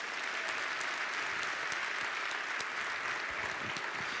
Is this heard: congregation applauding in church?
yes